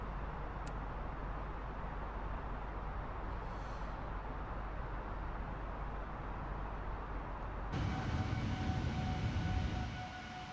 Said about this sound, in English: You can hear things have got a bit quieter outside the jet, obviously, as the thrust levers have gone back.